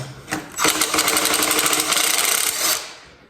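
A Milwaukee power tool buzzes in a rapid, rattling impact burst while loosening a cylinder head stud, a loud, close run of about two seconds that starts abruptly and stops just as sharply.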